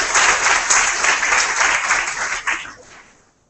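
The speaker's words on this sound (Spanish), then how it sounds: "les pido que deseamos un fuerte aplauso a la directora del programa de terapia respiratoria" Steady, full applause fills a hall at a World Asthma Day event for the director of a respiratory therapy program, then tapers off and fades to quiet at the end.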